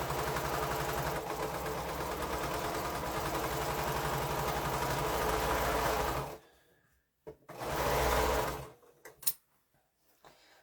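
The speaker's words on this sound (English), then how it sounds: "I'll sew on this other piece." A sewing machine runs continuously for about six seconds as it stitches quilt pieces, a close, steady mechanical whir, then stops. A short second burst and a few small clicks follow.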